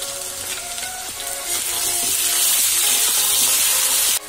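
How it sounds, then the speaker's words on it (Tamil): Potatoes fry in hot oil, turning golden brown, with a steady close sizzle that swells louder and fuller partway through and runs on without talk. "இது நல்லா கோல்டன் ப்ரௌனா வர வரைக்கும் ஃப்ரை பண்ணிக்கலாம்."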